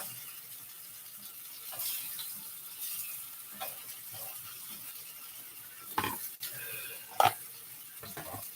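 Vegan strawberry cheesecake French toast rolls frying in a pan, a faint low sizzle close by with a few soft clatters and bumps near the end.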